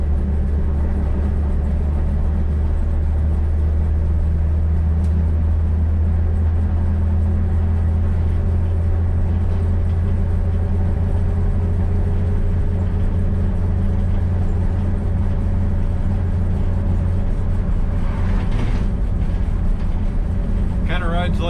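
A 1966 Chevrolet C20 custom camper truck rolls along in second gear at about 15 mph, its engine a steady low drone with a loud rumbling undertone throughout, and someone talking over it.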